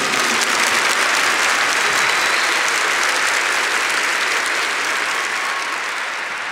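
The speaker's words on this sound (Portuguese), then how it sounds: "Give the Lord a big clap" A church congregation applauds together in a loud, steady clap that fills the whole stretch, dense and sustained, easing off only slightly toward the end.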